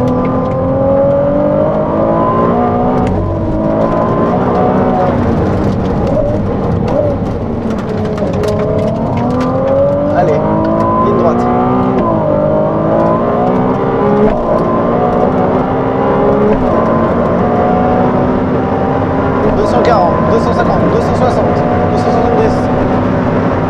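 Ferrari 296 GTB driven hard on a race track in qualifying mode, its engine note rising and shifting through repeated climbing pitch sweeps, loud and close from inside the cabin with brief occasional voice underneath.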